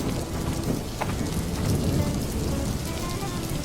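Heavy rain pours down steadily, a dense wash of noise throughout, with low rumbling that suggests thunder rolling beneath it; no voices are heard.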